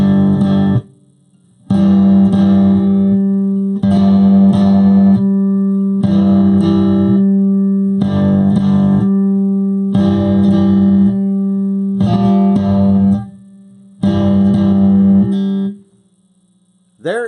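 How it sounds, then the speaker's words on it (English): Basic blues riff on a cigar box guitar, eight strongly strummed chord pairs repeating in a steady rhythm with short gaps between, loud and close with a droning, buzzy tone and a final rising note at the end. "There is your most basic blues riff, and it sounds great."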